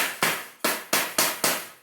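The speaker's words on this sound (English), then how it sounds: "in order to get a little bit better of a bend going, I actually do use a hammer just to get this" A hammer taps a bent corner of a homemade chicken treat box into shape: five sharp, evenly spaced knocks, close and alone.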